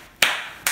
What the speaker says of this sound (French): Applaudissez cet homme.